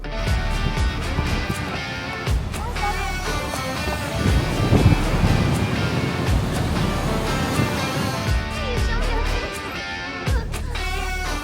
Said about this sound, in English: the waves are surfable, not very big, but just good to have some fun